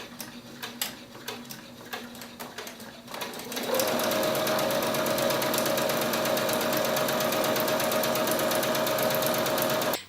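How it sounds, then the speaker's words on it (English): A foot-pedal sewing machine sewing a straight stitch on fabric: a few light clicks, then the motor starts and hums in a fast, steady mechanical rhythm close to the microphone until it stops. "you simply just press down on your foot pedal and the machine will stitch."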